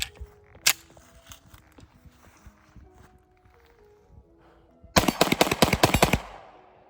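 A Rock Island 10mm 1911 pistol fires a quick string of six loud shots near the end, following quieter handling noises and light rustling.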